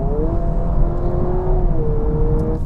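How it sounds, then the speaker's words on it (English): 2026 Honda Prelude hybrid in Sport mode giving a steady, smooth engine drone from inside the cabin, holding a sustained tone with a slight pitch dip midway over low road rumble. "you hear a different engine sound. We get the Sport engine sound from that."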